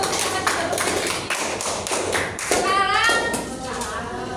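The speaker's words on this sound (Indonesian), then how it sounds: "Beri tepuk tangan untuk kelompok biru" A classroom claps for a student group after a microteaching presentation, with steady, dense clapping throughout and a voice speaking over it near the end.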